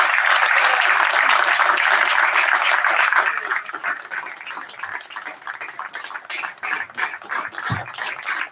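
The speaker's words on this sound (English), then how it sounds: "Please give him a round of applause." Applause from a school graduation crowd honoring a retiring gate guard, loud and dense at first, then thinning into scattered, uneven clapping that continues to the end.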